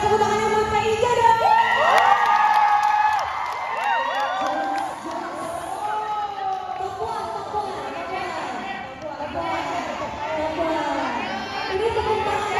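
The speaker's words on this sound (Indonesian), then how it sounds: "Mau dengar tepuk tangannya buat Kak Ija dong." A crowd at a Lyodra Ginting meet and greet in a Jakarta mall cheers loudly, with high-pitched shrieks and whoops rising and falling over several seconds. An amplified voice talks over the cheering.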